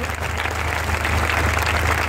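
Applause from a crowd at an outdoor Christian prayer meeting on a ground, a steady dense clapping wash that holds loud and even throughout, with a low hum underneath.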